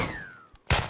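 Pistol shots in the video game Deadside: a single sharp, loud report near the end, following a quieter muffled thump, with a faint descending whine trailing beforehand.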